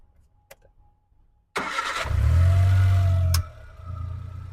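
A petrol and gas dual-fuel car engine cranks with a brief whir, catches on petrol, and roars up loudly before settling into a steady idle; close by, no talking.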